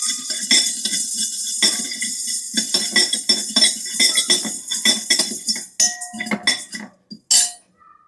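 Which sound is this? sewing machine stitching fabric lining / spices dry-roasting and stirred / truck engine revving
spices dry-roasting and stirred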